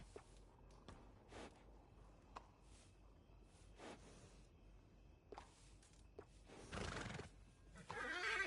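A horse whinnies in Red Dead Redemption 2, with a loud, drawn-out neigh near the end. Quieter snorts, hoof steps and game ambience come before it. No talk is heard.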